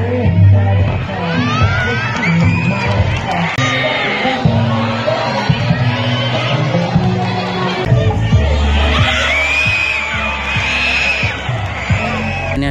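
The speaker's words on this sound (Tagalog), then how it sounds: "hiyawan yung mga tao dyan" At a school Teacher's Day dance performance, a crowd cheers, children shout and people whoop and yell over loud music for the whole stretch, with occasional bangs among the noise.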